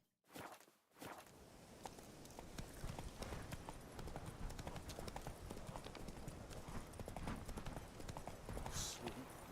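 A horse galloping in The Witcher 3: Wild Hunt, with steady, loud clip-clop hoofbeats running continuously across an open game world after a brief quiet start.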